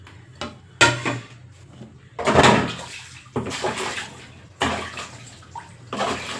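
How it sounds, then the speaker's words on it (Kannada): Tap water runs as hands are washed at a home sink, heard in several close splashing bursts with clatters and knocks between them and no talking. "ಕೈ ವಾಶ್ ಮಾಡ್ಕೊತೀನಿ"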